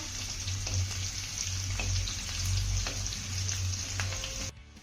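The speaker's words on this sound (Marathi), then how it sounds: "त्यानंतर हा लसूण आपल्याला सोनेरी रंगावरती परतून घ्यायचा आहे" Finely chopped garlic sizzles and fries in hot oil with cumin, giving a steady close crackle with a low rumbling bubble that pulses underneath, broken by a few soft clicks, before ending abruptly, with no talking.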